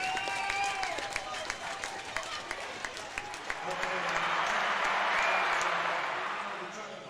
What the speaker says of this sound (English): Crowd loves this.